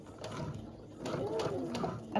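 A sewing machine stitches a back stitch with short mechanical whirring bursts and ratcheting clicks, fairly quiet and close up, with no talking over it.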